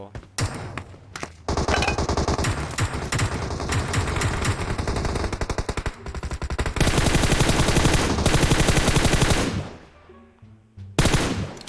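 Rapid automatic gunfire from an AK rifle in a PUBG Mobile match, long loud bursts of dense shots with brief pauses, a gap near the end before another volley, under faint voice chat.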